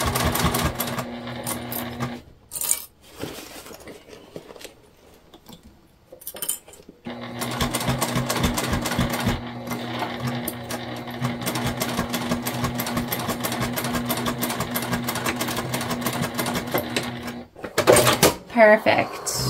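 A sewing machine stitches a beginner bag in two long runs, a short burst early on and then a steady stretch of rapid, even stitching, with brief handling clatter in the pauses and a person talking between runs.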